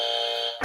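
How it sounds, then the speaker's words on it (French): A game-show style buzzer pressed by a host during a French talk show about salary negotiation: a steady, harmonically rich electronic tone holds for over half a second, then cuts into a louder broadband burst. "J'allais buzzer parce qu'on a des questions"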